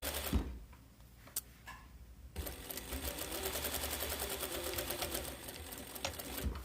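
A sewing machine stitches teddy bear head pieces, first in a few short bursts with pauses and then in one long, even run of rapid needle clatter, close and loud, with no one talking.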